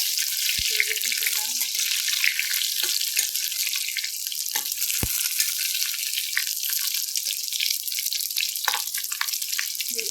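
Drumstick pods frying with green chillies and curry leaves in a pan, a steady broadband sizzle with a few sharp pops and light clatter, constant and close with no talking.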